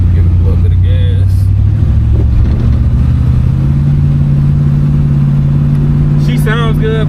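A 1969 Ford Fairlane V8 engine, heard from inside the car, revs under steady acceleration, with a droning low hum that climbs in pitch midway, while a person talks over it.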